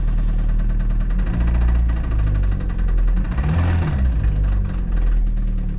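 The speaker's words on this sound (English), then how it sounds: "got kind of a knocking noise now down in the bottom of the motor." A 2004 Toyota Celica engine, run low on oil, idles with a rough, rhythmic bottom-end knock pulsing through the low rumble, close and steady throughout.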